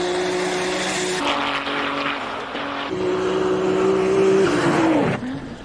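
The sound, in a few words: Formula One race car engine at racing event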